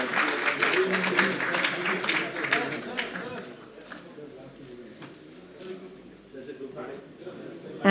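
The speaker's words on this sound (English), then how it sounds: "Can we have a round of applause for all our speakers?" Audience applause for speakers at a security leadership summit panel, a dense burst of clapping that fades after about three seconds into room noise and indistinct voices.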